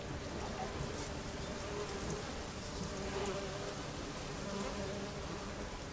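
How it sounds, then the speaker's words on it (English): Bees buzz in a steady, droning hum in the game The Witcher 3 on Fyke Isle, a continuous insect whir layered under other in-game ambience. "I hear like bee noises."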